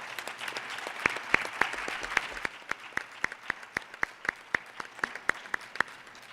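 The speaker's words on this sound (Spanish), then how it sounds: "por lo que pido un aplauso para todos ellos" An audience applauds the artisans of San Agustín Oapan and Xalitla, Guerrero: a soft wash of scattered clapping that thins into a few sharp, evenly spaced single claps, fairly quiet overall.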